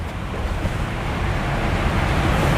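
An electric air pump inflates an air mattress in the cargo area of a Toyota Innova, blowing a steady, loud rushing whoosh that holds constant throughout with no pauses.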